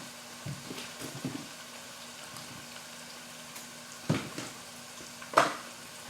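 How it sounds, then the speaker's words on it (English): Leftovers of rice cooking in a single pot bubble and tick softly at a low level, broken by a few brief clatters and scrapes from a pot or utensil. "I'm going to let them simmer just a little bit more."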